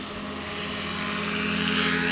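Light fabric-covered STOL aircraft at a competition at Patriot Airpark, its engine a steady droning hum with propeller tones that swells slightly louder over two seconds, without voices.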